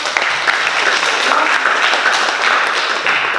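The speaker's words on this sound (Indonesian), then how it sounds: "Kita berikan aplaus untuk." Classroom applause from a group of students, dense steady clapping held close and loud for a few seconds, with no talking over it.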